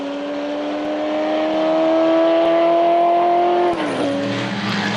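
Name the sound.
1963 TVR Grand Tourer four-cylinder race car at Le Mans Classic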